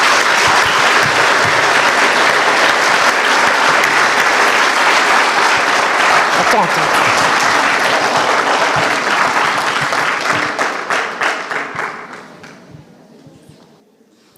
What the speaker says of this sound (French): je voudrais qu'on applaudisse la convergence islamo-catholique